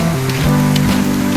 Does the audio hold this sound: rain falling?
yes